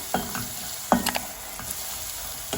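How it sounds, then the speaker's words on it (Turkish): Onions sauté in a pan for soup, a soft steady sizzle with a couple of brief scraping stirs close by. "Şöyle biraz daha kavuracağım."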